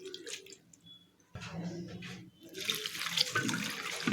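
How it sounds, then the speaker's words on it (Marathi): Water splashes and swishes in a bowl as flattened rice (poha) is rinsed, growing louder and busier toward the end, with softer handling sounds before. "पोहे धुवून घ्यायचे"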